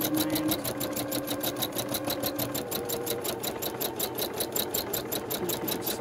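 A sewing machine stitches a free motion bowl on dissolving film, running steadily and continuously at close range with a fast, regular needle rhythm and no pauses.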